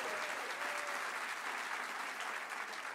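The audience at a CES keynote applauds in a dense, sustained wash of clapping that stays loud and even throughout, with faint voices in the crowd.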